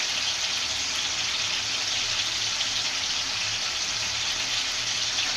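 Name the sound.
tomatoes cooking in oil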